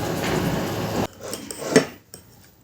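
A spoon scrapes and clinks against a pan while egg kheema is stirred together with spices, giving a few sharp metallic knocks over a steady sizzling hiss that then drops away.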